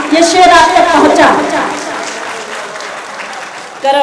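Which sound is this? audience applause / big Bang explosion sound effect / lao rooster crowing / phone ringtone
audience applause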